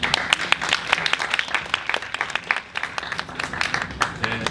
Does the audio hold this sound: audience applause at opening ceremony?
yes